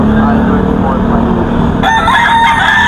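A gamecock crows loudly and close amid a busy rooster farm, with other fowl and background noise and someone talking over the crow.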